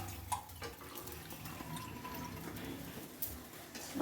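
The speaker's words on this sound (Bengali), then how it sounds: "এবার আমি একটু জল দিয়ে দেবো" Water is poured into a pan of cooking curry, a close, continuous watery pour and splash with a few small clatters and no talk.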